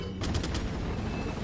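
Minigun fire in Resident Evil 4, a dense loud continuous rattle of rapid shots with a few sharper bursts near the start, heard for just over a second.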